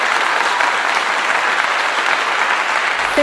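Loud, dense applause rolls on steadily without a break, a close, continuous wash of many hands clapping that ends abruptly.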